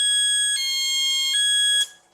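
A GPS anti-theft alarm on an electric scooter blares a loud, steady electronic tone that shifts between pitch patterns, then cuts off abruptly near the end.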